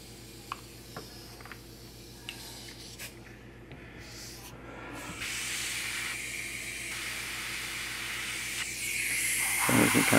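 An airbrush sprays white paint onto a figure, giving a soft hiss in short bursts at first that turns into a louder, longer spray toward the end, heard close up.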